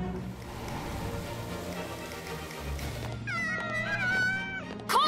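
Cartoon cats meow in a run of rising, wavering cries that sit over a busy music bed and grow louder toward the end.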